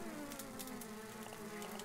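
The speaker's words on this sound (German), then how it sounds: "Es summt und surrt um mich herum." Insects in the survival video game Grounded buzz around the player in a continuous droning hum with brief rising swells, and no voices.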